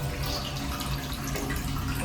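Water runs on its own from a shower in a bathroom, a continuous, fairly close hissing spray that stays steady throughout, with no voices.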